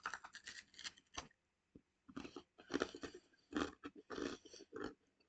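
A crunchy sweet peanut rice-crispy snack is chewed up close, giving loud rhythmic crunching bursts separated by short pauses, with no talking over the chewing.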